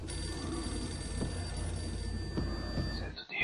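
An old telephone rings in the Max Payne video game, a steady bell trill sounding continuously at moderate volume before cutting off abruptly just before the end.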